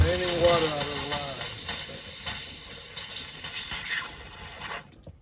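Compressed air hisses through a Fun Finder travel trailer's water lines, blowing out leftover water in a steady rushing spray that sputters and fades out near the end.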